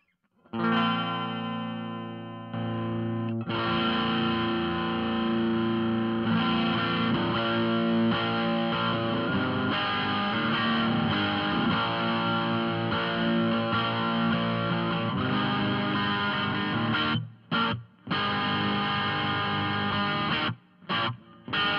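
Electric guitar played through a Nobels ODR-Mini natural overdrive pedal, a loud sustained crunchy overdriven tone with ringing chords and riffs, briefly cutting out near the end, with no talking.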